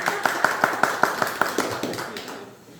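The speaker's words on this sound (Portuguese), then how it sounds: "Agora sim, aplausos para a Natália." Classroom audience claps briefly for a student after a physics demonstration, with around a dozen quick, evenly spaced claps that thin out and stop within three seconds.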